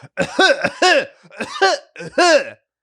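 A voice imitates a harsh, forceful cough in four loud, throaty bursts with brief gaps between them, close to the listener.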